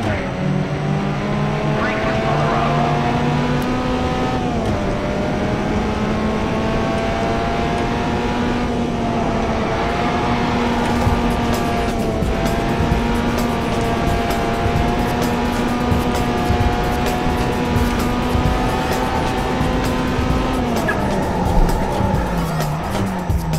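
Racing car engines from the Overspeed video game drone steadily for over twenty seconds, with sustained pitch that shifts as the cars accelerate and change gear, and a voice talks over the engine noise.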